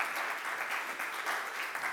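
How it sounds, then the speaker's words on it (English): Steady applause from a conference audience at a JavaScript developer event, a dense even patter of many hands clapping for two seconds with no voices over it. "some applause for you"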